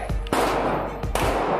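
Gunfire at an outdoor range, with loud sharp reports in quick succession, several cracks close together and ringing between shots.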